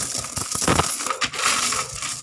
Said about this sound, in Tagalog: Malapit nang mapuno yung isang balde ko. Puro tong barya.